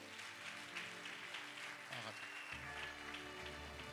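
Congregation clapping and cheering at a church seminar, a dense steady wash of applause filling the space throughout, with a low musical hum beneath it.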